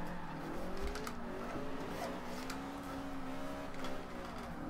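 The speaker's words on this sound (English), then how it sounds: "It's not every day you see a Golf GTI drifting" A Golf GTI drifts in Forza Horizon 2 with a continuous wavering engine drone and a long tire squeal sliding up and down in pitch, steady and moderately quiet.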